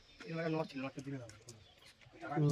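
A Madrush pigeon gives soft, low cooing notes in short rolling phrases, close by but quiet, with a small pause before the calls resume.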